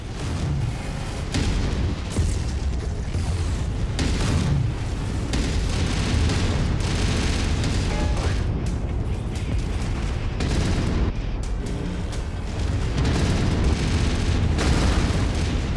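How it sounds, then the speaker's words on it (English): Ultra autocannons firing from a Carapace mech in MechWarrior, a dense, continuous barrage of heavy booming shots and explosions, loud and relentless with brief bursts standing out across the whole stretch. "Next up was the Carapace, the variant designed with bonuses clearly in mind for one weapon type: ultra autocannons."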